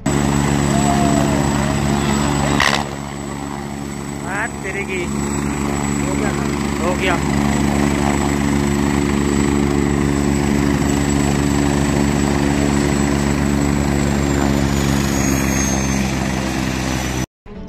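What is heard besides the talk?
helicopter with running rotor at Kedarnath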